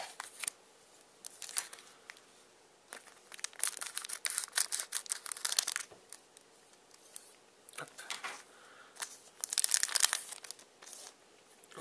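Crinkly plastic wrapper of a Dragon Ball Heroes card booster pack being torn and crumpled open up close, a string of sharp rustling bursts and rips with short quiet gaps, no talking.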